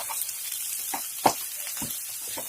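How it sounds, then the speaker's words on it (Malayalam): Fish masala paste sautéing in a pan, a low steady sizzle with a few soft scraping stirs and one sharper knock of the utensil against the pan. "ഇത് ശരിക്കും പറഞ്ഞാൽ നല്ല പേസ്റ്റ് പോലെ ആയി വരണം. അപ്പൊ അതുവരെ നമുക്കൊന്ന് വഴറ്റിയെടുക്കണം."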